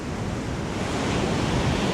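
Ocean waves wash onto a sandy beach in a constant broadband rush of surf, loud and close, with some wind noise on the microphone.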